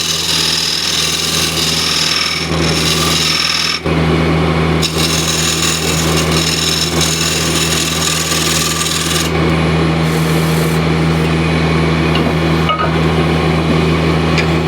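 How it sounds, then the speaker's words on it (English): Square scraper cutting into a recess on a spinning wood lathe, a loud, continuous rasping scrape over the steady hum of the machine, with brief changes in tone as the tool shifts. "I'll use a square and scraper to screw up the recess and deepen it ever so slightly more."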